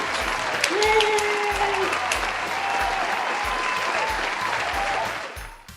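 Audience applause at a 2020 year-end employee awards event: sustained, even clapping from a crowd, with a voice speaking over it, fading at the end.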